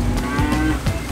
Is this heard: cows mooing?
yes